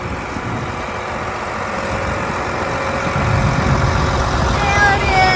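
A John Deere 8235 tractor engine runs steadily through a corn and soybean harvest field, a low continuous drone that swells slightly louder toward the end, with faint voices audible beneath it.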